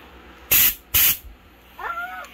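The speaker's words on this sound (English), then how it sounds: "If you got an air compressor, a little bit of hose, and one of these spray nozzles," An air compressor spray nozzle on a length of hose gives two short, loud blasts of air, followed by a faint squeaky sound, in a motorcycle workshop while grips are fitted to a Ducati Streetfighter.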